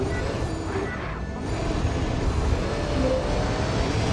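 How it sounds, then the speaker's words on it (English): Steady broadband traffic rumble of electric cars driving through a city street in the game MindsEye, continuous and fairly loud with a passing swell, no talk. "Considering all the cars here are electric, why do they make so much noise?"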